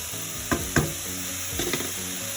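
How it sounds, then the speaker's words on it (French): Tomatoes for a homemade pizza sauce cook in a pan with a steady, soft sizzle. A few light clinks and stirring scrapes stand out near the middle and toward the end. "les tomates sont en train de cuire"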